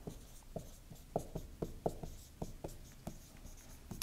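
Pen or pencil writing out a geometry proof on paper, a quiet, close run of short scratchy strokes in an irregular rhythm with no talking.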